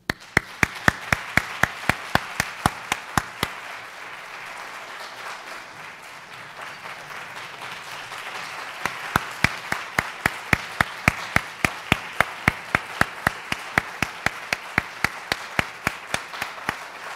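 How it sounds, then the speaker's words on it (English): An audience at a retirement celebration for a school headmaster claps along in a steady, even rhythm, loud and sustained, pausing briefly in the middle before the rhythmic clapping resumes. "let's take a moment and thank our headmaster with our applause"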